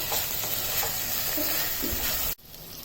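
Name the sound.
vegetables frying in pan for veg biryani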